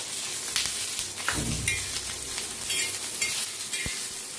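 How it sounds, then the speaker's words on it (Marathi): Green chillies fry in a pan with chopped garlic, ginger and beans while being stirred. A steady close sizzle is broken by the scrape and clatter of the stirring spoon, with one sharp knock near the end. "आता मिरच्या छान भाजायला लागते, त्याच्यात आपण लसूण अद्रक चिरून घेतलेलं शेंगा टाकूया"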